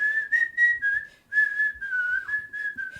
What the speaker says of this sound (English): You love whistling. I love whistling.